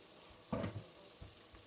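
Beef stew cooking in a pot gives a short, faint burst of sizzling and stirring, then fades back into quiet room noise.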